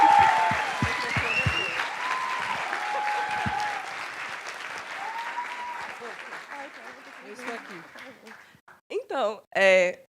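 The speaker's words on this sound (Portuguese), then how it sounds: "Gente, vamos apoiar. Uma salva de palmas para a Raquel." An audience claps loudly with scattered cheers and whoops, the applause gradually fading before voices speak at the end.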